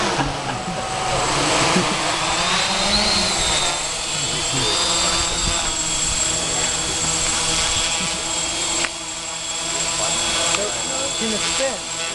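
A Parallax hexacopter drone flies nearby with a loud, steady multi-rotor whine and buzz that shifts slightly in pitch as it manoeuvres, with people talking under the noise.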